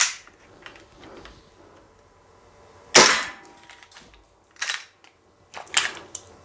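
G&G GPM1911 gas blowback airsoft pistol firing outdoors in a field test, a few sharp cracking shots spaced irregularly, one especially loud and close, others quicker and lighter, with quiet gaps between.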